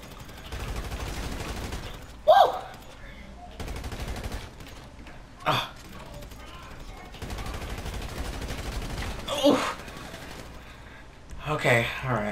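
Gunfire in the video game GTA 5 comes as several sharp bursts spread across a steady background hum, with voices talking in between.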